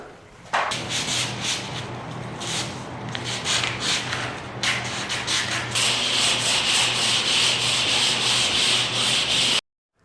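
Drywall joint compound on a wall is sanded by hand in close, steady, rasping rubbing strokes that grow denser and brighter toward the end before stopping abruptly.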